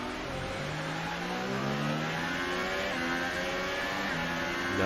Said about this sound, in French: Il est arrivé trop vite dans le virage